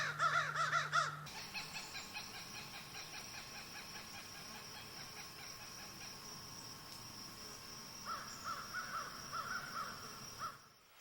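Crows caw in a rapid, loud burst while mobbing a great horned owl, then a steady insect drone carries on with scattered calls returning near the end.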